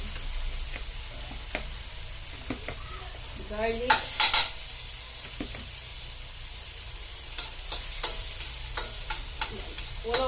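Garlic sautéing in oil in a pan for ginisang monggo: a continuous sizzle broken by repeated scraping and clinking spoon strokes, some louder bursts, close by.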